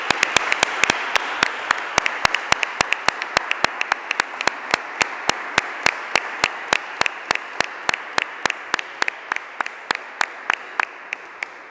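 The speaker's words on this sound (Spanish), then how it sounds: "yo creo que se merece un aplauso de todos modos" Applause after a lecture at a summer school in Fregenal, Spain, with a few hands clapping in sharp, distinct, fairly regular beats that hold steady and then slowly thin toward the end.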